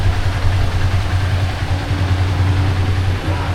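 A carbureted Honda XR150L motorcycle engine idles steadily at close range, a low, even, rumbling putter that runs throughout without talking.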